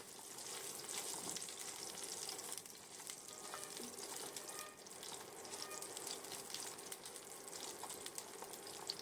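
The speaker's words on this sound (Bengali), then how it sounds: "প্রথমে আমি বড়িগুলো ভেজে নিলাম আমি এ রান্নাটা সর্ষের তেলেই করেছি" Lentil dumplings (bori) fry in mustard oil for a spinach dish: a steady, soft, crackling sizzle that runs evenly throughout, fairly quiet and alone.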